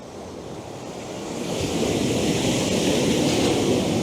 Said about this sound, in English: now I'm looking at the waves over there